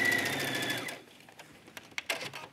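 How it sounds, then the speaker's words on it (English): A sewing machine sews an understitch on leggings with contrasting thread: a steady, rapid mechanical whir for about a second, then it stops, leaving faint handling clicks and small knocks close by. "you can do an understitch right here, and I'll go ahead and do that just so you can see what it looks like"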